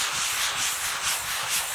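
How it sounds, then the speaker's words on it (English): A drywall sanding sponge is lightly rubbed across a painted wall in smooth back-and-forth strokes, a soft, close, continuous scratchy hiss rising and falling with each pass, without any talking. "I'm taking my drywall sanding sponge and all I'm going to do is just give it a light sand."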